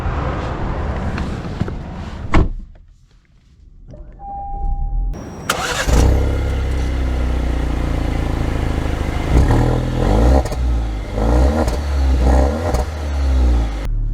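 A 2024 Alfa Romeo Giulia Sprint cranks and fires up with a sharp start, then settles into a loud, close engine rumble that rises and falls as it revs and drives off, with no one speaking.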